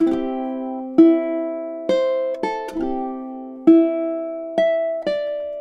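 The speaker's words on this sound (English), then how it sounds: "So in time, 9 and 10 sounds something like this." Solo ukulele picks a short phrase from a song, a handful of clean, ringing notes in a gentle waltz-like rhythm, played close with nothing else around it.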